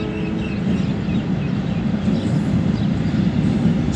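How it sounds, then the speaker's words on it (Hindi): The 146 Down Sukkur Express hauled by an AG-30 locomotive approaches, heard as a loud, steady low rumble of rolling wheels and engine throughout. "वन फोर्टी सिक्स डाउन सक्कर एक्सप्रेस आ रही है"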